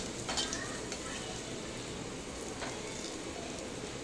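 Garlic cloves for garlic chutney sauté in a pan until golden brown, giving a faint, steady sizzle with occasional soft stirring scrapes.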